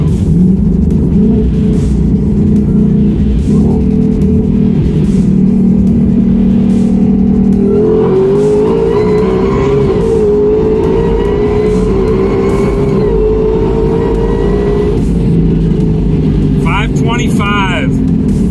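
A tuned 2021 Ford Mustang GT500 accelerates hard on a test run, its engine roaring loud and close as it climbs through gears with distinct shift breaks, someone speaking briefly near the end.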